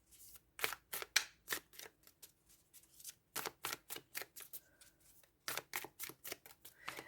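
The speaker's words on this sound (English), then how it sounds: "I tend to shuffle the cards face up and face down" Crisp, rapid riffling bursts of a card deck being shuffled, several quick runs separated by short pauses, close and clear with no talking.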